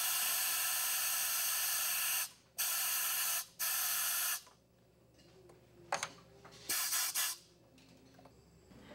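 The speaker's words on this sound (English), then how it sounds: "The second stage goes through tests to make sure the purge valve works properly and that there are no leaks." A scuba regulator second stage has its purge valve tested for leaks: three loud, close bursts of hissing air, each a second or two long, then quieter clicks and a few brief, fainter hisses.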